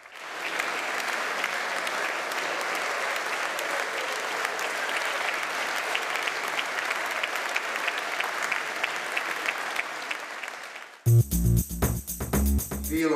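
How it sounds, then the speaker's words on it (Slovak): Long, dense applause from a concert audience closing a performance, sustained and even for about eleven seconds before cutting abruptly into music. "ponúkla všetkým zúčastneným krásny umelecký hudobný zážitok, ktorý bol odmenený dlhým záverečným potleskom"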